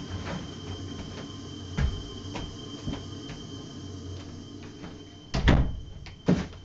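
A room door is pushed shut nearby, with a solid thud followed by a quick latch knock over a steady background hum.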